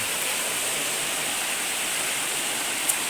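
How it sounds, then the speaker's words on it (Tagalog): Water from a natural spring in Davao Oriental flows out of a bank in a steady, close, rushing wash of sound, continuous and broadband, with no talk over it. "So ayun guys, may tubod guys oh."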